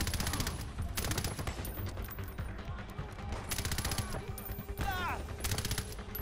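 Video game gunfire rings out in short, loud bursts, about five clusters of rapid shots spaced across the moment with brief gaps between them.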